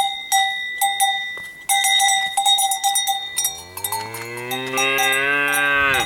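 Cattle on an Alpine mountainside clank cowbells in an irregular rhythm, then one cow lets out a long, loud, drawn-out moo that sounds annoyed and rises in pitch near the end.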